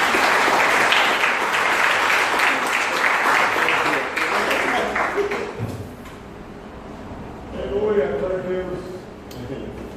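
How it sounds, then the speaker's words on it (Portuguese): A church congregation applauds, loud dense clapping that swells and then tapers off, followed by a person speaking over the quieter room. "Vamos aplaudir o Senhor pela vida do presbítero Jorge."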